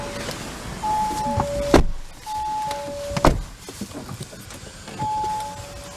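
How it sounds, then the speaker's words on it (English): The electric power seat motor in a 2019 Audi Q5 2.0T Quattro hums in several short runs of about half a second each, broken by a couple of sharp clicks or thumps inside the car. "Power seat."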